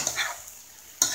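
Sautéed eggplant and bitter gourd stirred in a hot pan, with a soft sizzle and a few light scrapes, then a sharper clatter of the utensil against the pan at the end.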